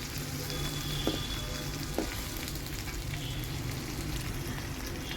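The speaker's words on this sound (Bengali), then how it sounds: "মিনি শুটকি রান্না করার জন্য এখানে প্রথমে তেলে পেঁয়াজ রসুন ভেজে নেওয়া হচ্ছে" Onion and garlic frying in oil as the base for a dried small fish curry, giving a steady, close sizzle with two brief utensil taps near the start.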